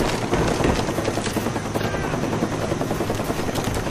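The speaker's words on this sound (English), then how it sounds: "Friendly spy plane inbound." A friendly spy plane passes overhead in a first-person shooter on the Summit map, its steady droning whir filling the mix amid constant game noise and scattered effects.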